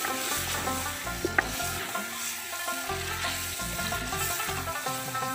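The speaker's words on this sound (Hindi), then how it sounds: "इस गोश्त को डाल के हम इसकी भी अच्छे तरीके से भुनाई कर लेंगे" Beef for a katwa curry roasts in a pan, giving a steady, loud, close sizzle with stirring, under continuous background music.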